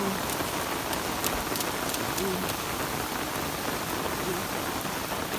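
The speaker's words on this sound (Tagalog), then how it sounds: "Sobrang ulan guys" Heavy rain pours down outdoors in a dense, steady, loud hiss that never lets up, with a faint voice briefly present underneath.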